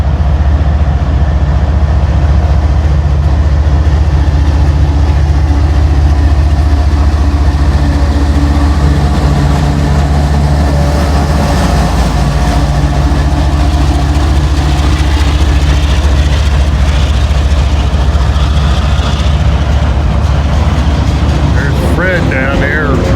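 A train rolls slowly along the track in a steady low rumble and engine drone that stays loud and continuous, with a person talking over it.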